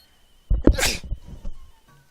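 A single close sneeze with a sharp catch of breath and an explosive burst, followed by some quiet sniffing and rustling.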